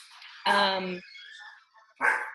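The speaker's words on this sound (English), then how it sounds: "But sorry for the dog." A dog barks indoors, with one loud, drawn-out bark followed by a second sharp bark a moment later, close to the microphone, while a person talks in between.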